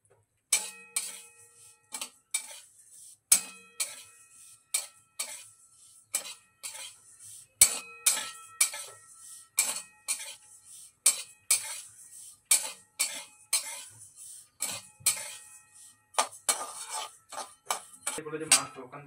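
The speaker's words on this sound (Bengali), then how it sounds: "ডালিয়াটা এবারে শুকনো খোলায় ভেজে নেব।" Dry broken wheat (dalia) is roasted in a pan, with a spoon scraping and clinking against the metal in quick repeated strokes, close and clear.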